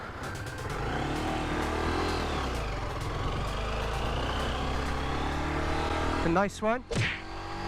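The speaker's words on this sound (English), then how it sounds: "Hopefully the wind noise is better, less obtrusive." Wind roars steadily inside a helmet during a motorcycle ride, with a low engine drone beneath; a rider speaks briefly near the end.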